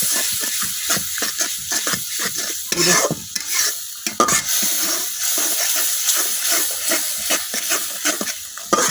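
Spice masala of salt and cumin powder is stir-fried in a pan for chicken, giving a loud, continuous sizzle broken by quick, repeated spatula scrapes and stirs, with no voices.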